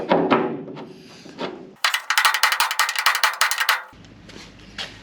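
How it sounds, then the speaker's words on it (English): A burst of rapid, sharp metallic hammer blows on a Firebird's sheet-metal pinch weld, about a dozen in quick succession, loud and close, between quieter clanks and handling noise. "Hopefully this hammer's big enough."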